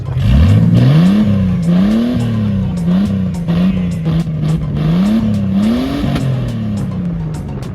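A car with its exhaust removed revs hard and raw, the engine note climbing and falling in repeated surges, loud and close, during a rally drive.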